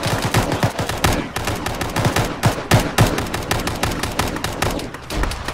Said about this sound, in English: Keep firing, Southwest!